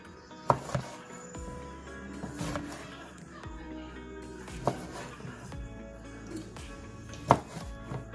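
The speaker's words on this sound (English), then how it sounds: "This is a tomato off the vine. Just going to cut that in half." A knife cuts through a vine tomato on a board, giving a few sharp, distinct cutting knocks spread across the stretch. There is a quiet kitchen background and no talking.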